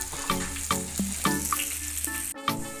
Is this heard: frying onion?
yes